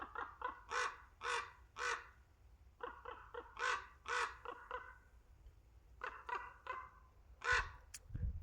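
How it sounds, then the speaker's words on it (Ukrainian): Ravens croak repeatedly overhead in loose bursts of harsh calls, several birds answering one another, fairly close and loud over a quiet outdoor background. "Круки тут наді мною прям кипіш якісь створюють."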